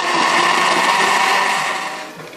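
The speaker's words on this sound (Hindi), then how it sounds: "मैं स्ट्रॉबेरी को ब्लेंडर में डाल के" A blender grinds strawberries steadily at full power with a dense, whirring roar, then starts to ease off slightly near the end.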